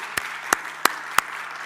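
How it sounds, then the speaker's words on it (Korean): Four separate sharp claps in a church service after a sermon, evenly spaced about a third of a second apart, crisp and close against a quiet background. "박수."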